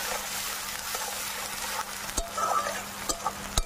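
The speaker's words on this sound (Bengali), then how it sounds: "একদম লাল করে পেঁয়াজটাকে ভেজে নিতে হবে।" Chopped onion frying in oil with bay leaf, dried chilli and salt, a soft continuous sizzle with a few sharp clicks of a utensil against the pan toward the end.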